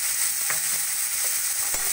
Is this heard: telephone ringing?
no